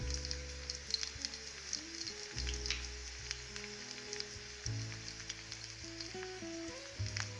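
Green chilies and green garlic frying in a pan for a tomato chutney, with a soft, even crackling sizzle at low level and a few faint stirring taps under a humming background.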